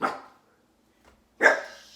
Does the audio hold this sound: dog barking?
yes